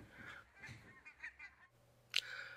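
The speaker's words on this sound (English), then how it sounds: "Pink-footed geese come to the Solway in their thousands from Iceland every winter" Pink-footed geese on the Solway give a few faint, distant honks in a quiet outdoor setting, ending with one sharper, louder call.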